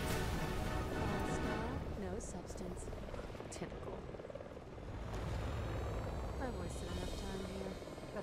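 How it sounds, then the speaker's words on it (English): Helicopters in the video game Resident Evil 6 whir loudly throughout, the rotor chop continuous and close, with brief sharp game effects layered over the drone. "I've got to use the missiles on the first lot of weak helicopters and then get my ass kicked by the big helicopter."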